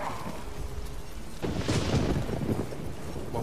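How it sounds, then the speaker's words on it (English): A magic explosion goes off in The Witcher 3, a sudden deep boom that swells around the midpoint and rolls on with a rumbling, echoing tail over low ambient noise. "A magic explosion of some sort."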